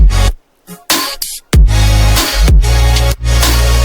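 Synth chords saturated through Camel Crusher's British Clean mode, loud and full with chopped, gated stabs and abrupt silences early, then sustained chord hits with pulsing low thumps, no talking.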